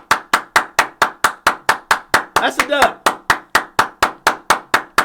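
Sharp, evenly spaced claps repeat steadily in a fast rhythm about four per second, loud and close, as a looping sound effect, with a voice briefly talking over the beat midway.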